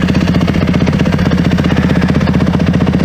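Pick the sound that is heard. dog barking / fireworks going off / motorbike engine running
motorbike engine running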